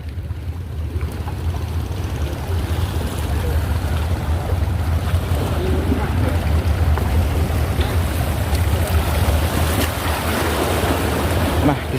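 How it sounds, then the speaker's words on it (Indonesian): Open sea near a floating coastal village without dry land, with a constant loud wash of waves and rushing wind noise that runs the whole way through. "semakin ke tengah ini ombaknya pun ya semakin serius, semakin kencang"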